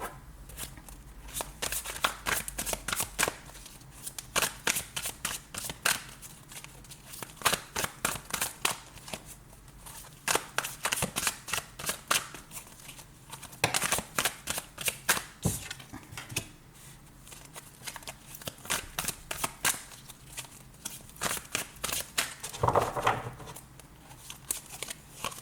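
Tarot cards are shuffled by hand, giving repeated soft riffling bursts and flicks with short pauses between them, close and fairly quiet.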